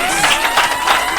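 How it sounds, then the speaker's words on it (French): A studio audience applauds in a short, dense burst of clapping that fills the whole moment, loud and close, with no voices over it. "Applaudissez pour elle."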